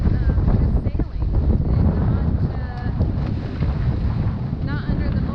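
Strong wind gusting on a sailboat on Lake Michigan, a loud, continuous roar of wind buffeting the microphone close up, with faint water sounds beneath.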